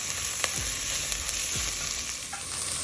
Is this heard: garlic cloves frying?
yes